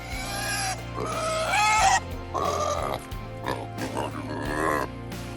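Several squealing, grunting pig oinks in quick bursts, fairly close and loud, with a steady low hum underneath.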